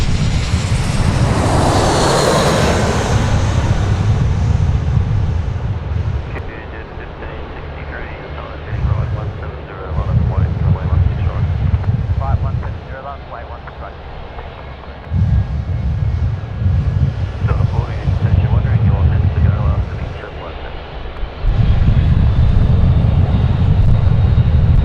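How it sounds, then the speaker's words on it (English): A Jetstar Airbus A320 on short final at Sydney Airport passes loud and close, its jet engine roar swelling then surging in waves with a low rumble, while people talk intermittently. "just coming in now, short finals is Jetstar 7750 in from Melbourne"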